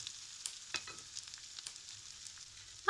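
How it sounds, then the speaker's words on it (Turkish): Potatoes and mushrooms stirred in a frying pan, a soft steady sizzle with scattered scraping and clicking of the utensil, near and fairly quiet, no voices. "Şöyle karıştırıyorum."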